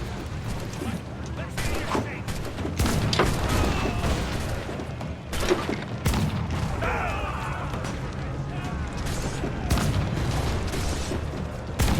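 Ship cannons firing a broadside in Assassin's Creed Black Flag, with a series of heavy booms and bursts spread across the scene, loud, beneath a shouted command and ongoing game voices and music.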